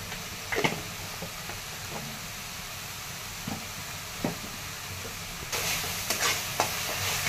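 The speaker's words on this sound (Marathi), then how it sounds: "तर आता छान परतलेला आहे टोमॅटो, कांदा, मसाले" Onion, tomato and spice masala fries in a pan with a low, steady sizzle, broken by occasional spoon clinks and scrapes, the frying growing louder and hissier toward the end, with no talking.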